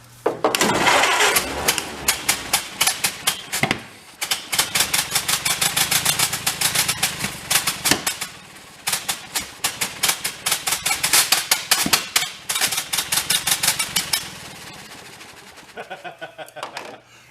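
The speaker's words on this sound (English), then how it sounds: "Just that exhaust leak makes it sound so crappy." An old Ford truck engine idles loudly and roughly with rapid popping, sputtering pulses from a leaky exhaust, the choppy rhythm briefly breaking off a few times before it settles and fades.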